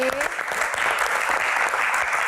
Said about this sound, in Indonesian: Kita gua berikan tepuk tangan untuk para panelis yang sudah ada di sini